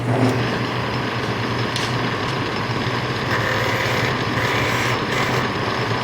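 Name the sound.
wood lathe turning a chess rook with skew chisel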